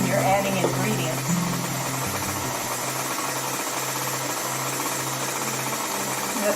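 An electric mixer runs on low, combining chocolate chip cookie dough with a cream mixture, making a steady close motor hum and churning throughout, with a voice talking over it.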